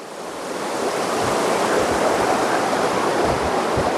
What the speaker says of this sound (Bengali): কি পরিষ্কার দেখো জলটা, কি সুন্দর ঝর্ণাটা।